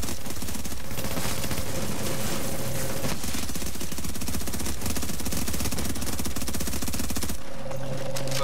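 Automated turret gunfire in The Division, loud sustained rapid-fire bursts with dense mechanical rattling filling the whole stretch, a brief shift in tone near the end.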